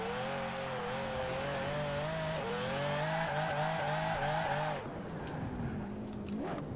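A Ferrari 599 drifting in a racing video game, its tyres squealing in a long wavering whine over the engine drone for several seconds before the screech cuts off and a brief chirp follows.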